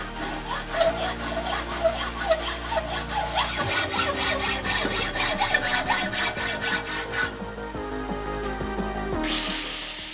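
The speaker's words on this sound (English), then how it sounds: "I had to resort to using the good old hacksaw" A hand hacksaw cuts through 30x30 solid steel bar in fast, even back-and-forth strokes, a loud rasping rhythm close by that runs steadily with no talking.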